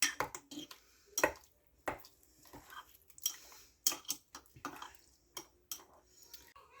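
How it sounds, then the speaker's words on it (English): A spoon stirs whole wheat oats and salt in a bowl for bread dough, giving quiet, irregular scrapes and light clinks against the bowl with no talking. "Going to give our oats with the salt in it just a little stir."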